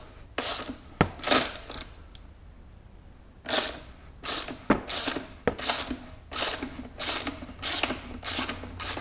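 A hand ratchet driving a T45 Torx bit clicks in quick repeated bursts while loosening the fender bolts on a motorcycle, close and crisp with short pauses between strokes.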